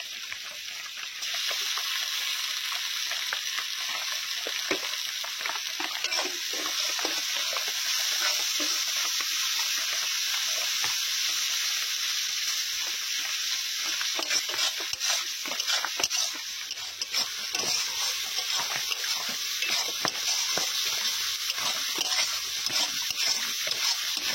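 Onion, tomato and ginger-garlic paste fry in a pan with turmeric and chili powder for chicken curry, a steady soft hissing sizzle with occasional stirring scrapes, close and unbroken.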